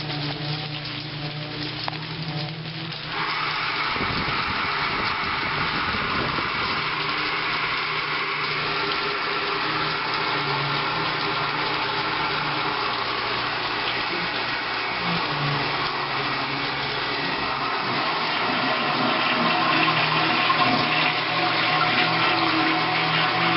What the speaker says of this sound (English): It's a mixture of a toilet being flushed 3 times, a shower going, and a hairdryer.